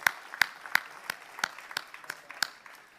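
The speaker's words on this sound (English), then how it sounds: "Please give a big round of applause to all the survivors that are here." A crowd claps in scattered, rhythmic bursts for ALS survivors at an outdoor charity walk in LA. The applause is fairly faint and thin, like a small group some distance away.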